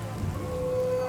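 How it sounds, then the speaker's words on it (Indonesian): Rain falls steadily outdoors at night, a soft continuous patter with a faint tonal hum underneath and no voices. "Ini udah mulai hujan nih. Ini udah lumayan hujan."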